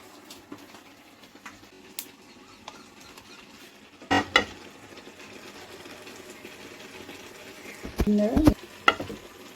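Green chillies frying in hot oil for a cabbage and egg fry, a soft steady sizzle with scattered clicks and a few louder bursts of spatter and stirring clatter near the middle and end.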